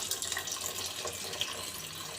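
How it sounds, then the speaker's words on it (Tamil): Water pours steadily into a pot of vegetable sambar being cooked, a continuous faint trickling and splashing with no talk over it. "காய் வேகிற அளவுக்கு தண்ணி ஊற்றிக்கலாம்"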